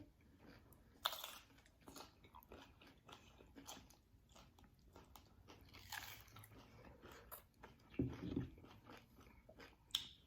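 Soft, close chewing and crunching of ceviche, with occasional louder bites amid faint background sounds.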